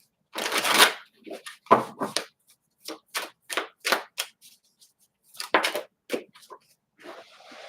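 Egyptian Tarot cards shuffled by hand, a rapid riffling burst followed by a string of separate crisp slaps and flicks, close and clear with pauses between, no talking.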